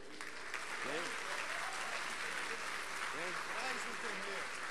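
An audience applauding councillors at a celebration: steady, dense clapping throughout, with voices talking and calling underneath.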